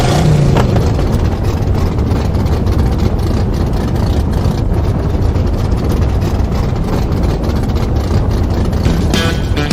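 Racing car engines idle and rev in a continuous loud, dense rumble, heavy and near for the whole clip, with no talking.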